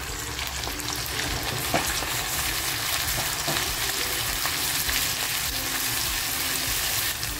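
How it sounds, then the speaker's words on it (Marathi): Chopped onion, garlic and green chili hit hot oil as a tempering for a stuffed eggplant and dried fish dish, frying in a loud, continuous, close sizzle with faint stirring scrapes throughout. "आता जे वांग्याबरोबरच कांदा, लसूण, मिरची टेचली होती तेच फोडणीला टाकते"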